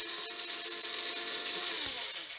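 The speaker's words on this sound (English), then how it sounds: "Spoonful or two in the coffee grinder, as much as we need." Electric coffee grinder blade-grinding aquarium ballast gravel, a loud steady whirring buzz with rattling grit that runs throughout and slows slightly at the end.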